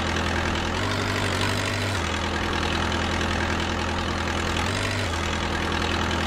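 Forklift engine idling steadily inside a virtual reality training simulator, a constant close mechanical drone with a low hum that briefly shifts in pitch twice, and no talking.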